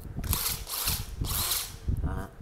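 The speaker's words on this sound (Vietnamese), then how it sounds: "Em bắn vít nè." A power drill driving screws, several short whirring bursts of rising and falling motor noise in quick succession, close by, with a voice speaking among them.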